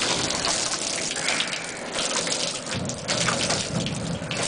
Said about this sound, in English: Try and spray him.